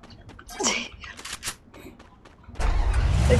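A car engine starting in a video game, a low rumbling engine kicking in and holding steady near the end, after a stretch of scattered clicks and brief voice sounds.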